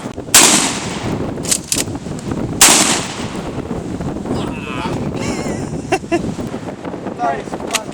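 A shotgun fired outdoors gives two sharp loud blasts a couple of seconds apart, with wind buffeting the microphone and people talking in between.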